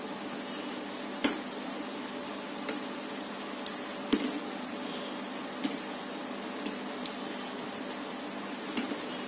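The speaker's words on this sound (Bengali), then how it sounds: "চুলার আঁচটা মিডিয়ামে রেখে নিমকিগুলি মুচমুচে করে ভেজে নিতে হবে।" Nimki, flour snacks, deep-frying in hot oil over medium heat, a quiet bubbling sizzle punctuated by several sharp clicks and pops at irregular intervals.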